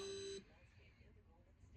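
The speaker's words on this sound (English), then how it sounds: "That's my alarm that's going off." An Alexa smart speaker alarm sounds as a steady electronic beep for under half a second, then cuts off, leaving a quiet room.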